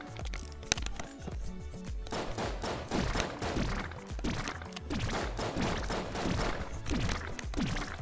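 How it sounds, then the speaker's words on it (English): Rapid, dense Magnum gunfire from the video game Enter the Gungeon, steady bursts of shots over busy game music and effects, loud and continuous throughout with no pauses. "Let's try out the Magnum. Oh yeah, this gun is pretty good against him."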